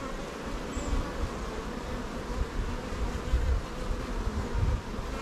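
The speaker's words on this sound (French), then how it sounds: "Il y a du nectar, il y a beaucoup de bourdons." Honeybees and drones buzz on a beehive frame in a continuous, moderately faint hum of many wings, close by and with no speech.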